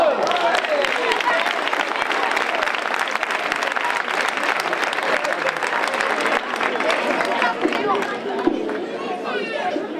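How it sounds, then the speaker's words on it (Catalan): Loud, sustained applause from a large crowd at a Sant Antoni Abat festival draw, dense clapping filling the whole stretch with cheering and chatter mixed in. "Un fort aplaudiment."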